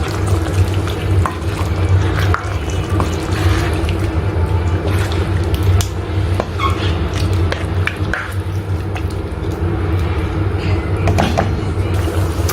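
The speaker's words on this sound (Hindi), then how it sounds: "अब इसके अंदर मैं दही डाल देती हूँ फेंटा हुआ। इसको मैं मिक्स कर दूँगी दही को।" Chicken karahi fries in a pan as whisked yogurt is stirred in, giving a steady sizzle with scraping stir sounds and a low hum throughout, no talking.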